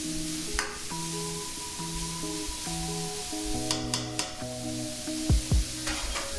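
Cauliflower fries with a steady sizzle in a pan while it is stirred, with a few scraping knocks and clatters near the end, and tonal music playing underneath throughout.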